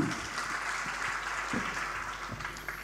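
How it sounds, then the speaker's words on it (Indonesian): A church congregation claps hands during a sermon, a steady, fairly faint wash of many hands with a few sharper claps standing out. "Angkat tangan, tepuk tangan, tepuk tangan"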